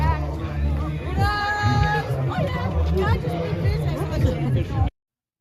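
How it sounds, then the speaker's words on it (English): Dense babble of a large crowd at an anti-tax protest near Parliament Hill and government buildings, a continuous hubbub of many overlapping voices with occasional louder calls, steady and close throughout. "It gives you an idea of the size of the crowd."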